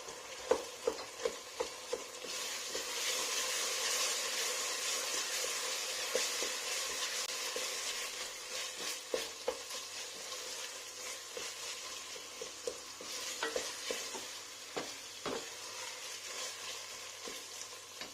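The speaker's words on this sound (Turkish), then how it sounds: "Bir dakika kadar mercimeği de kavuruyoruz" Red lentils and carrots stir-fry in a pan for spinach soup, a steady close sizzle broken by repeated sharp taps and scrapes of a utensil stirring.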